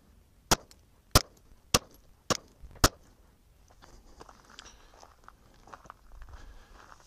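Five sharp, loud pistol reports from 147 grain Lawman ammunition fired through a factory barrel, spaced about half a second apart, followed by quiet room ambience.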